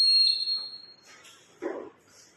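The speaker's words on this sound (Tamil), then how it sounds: "அலாரம் அடிச்சு லைட் இருக்கணும், அது எல்லாரும் அலாரம் அடிக்கணும்" A shrill electronic alarm tone sounds briefly at the start, then cuts off, followed by softer scattered noises and a short low thump.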